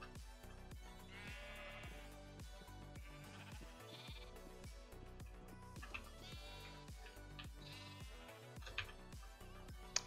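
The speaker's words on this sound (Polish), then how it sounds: "Jak tam owce?" Sheep bleat repeatedly in the video game Minecraft, several wavering calls overlapping over a steady rhythmic game music background, fairly clear and close.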